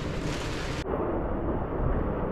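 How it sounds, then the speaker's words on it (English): Strong 50-knot wind gusting to 56 knots on a boat roars and buffets steadily against the microphone, with a brief shift in the rushing noise partway through. "we have 50 knots of wind and it's gusting 56"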